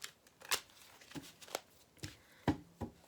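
Crisp, papery riffling of tarot cards in several short bursts, close by and moderately loud, with small handling sounds between the bursts.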